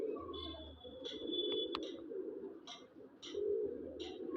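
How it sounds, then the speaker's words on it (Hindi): Low, soft cooing of Punjabi Malwai pigeons runs throughout, with a few brighter chirps and clicks scattered on top; no talking. "ले भी दोस्तों कबूतर की आँख चेक करो भाई, ये लो जी, बेहतरीन क्वालिटी का कबूतर।"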